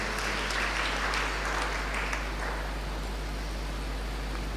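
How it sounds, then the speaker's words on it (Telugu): Congregation at a Catholic church sermon clapping loudly in praise of God, a dense, steady wash of applause that fills the space for several seconds over a low background hum. "ప్రజలా గట్టిగా చప్పట్లు కొట్టి దేవుని స్తుతిద్దామా."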